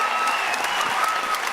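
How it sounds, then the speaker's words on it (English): A short burst of audience applause at a stage show, a dense wash of clapping close and steady, briefly filling the room. "the best way we can say well done to Fintan is give him a huge round of applause"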